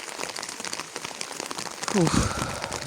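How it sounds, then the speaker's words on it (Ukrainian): Rain patters steadily on an autumn morning farmyard where geese and ducks are kept, a soft continuous crackle of drops with a brief low animal call near the end. "Так що в нас у нас такі дощара."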